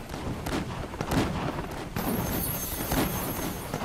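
Enemy cannons boom in the Zack Zero video game, several heavy thuds of cannon fire spaced about a second apart over a busy, loud game soundscape.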